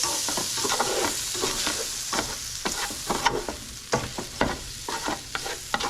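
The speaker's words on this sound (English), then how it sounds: "now that we've added the tomato base, or the tomato paste, just gonna give that a quick stir a little bit" A utensil stirs tomato paste base around a hot frying pan, with steady scraping strokes over a continuous sizzle of frying food, close and fairly loud, no voices.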